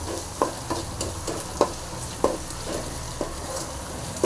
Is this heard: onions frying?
yes